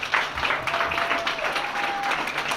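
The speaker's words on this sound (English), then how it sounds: "Can we get a round of applause for the athletes," A crowd at a sports awards ceremony applauds the athletes, a moderate wash of clapping with a faint tone running through it, fairly close and steady throughout.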